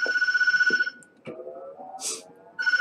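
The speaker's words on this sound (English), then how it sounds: "Answer the phone" Rings from a telephone in the horror game Tattletail: a loud pulsing electronic trill, then a gap with soft clicks and a brief bright burst, then the ringing starts again at the end.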